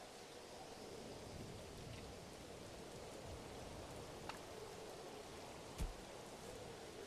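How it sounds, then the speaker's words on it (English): Rain falling in the medieval strategy game Manor Lords, a steady soft hiss throughout with a low rumble and a brief sharp crack near the end, no voices. "It's raining."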